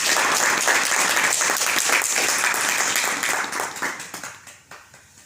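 A rehab-centre audience claps together in a loud, dense burst of applause that holds steady for about three seconds, then thins into scattered claps and fades out.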